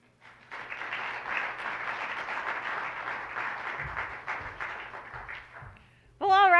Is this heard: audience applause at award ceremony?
yes